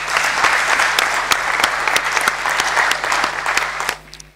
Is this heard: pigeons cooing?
no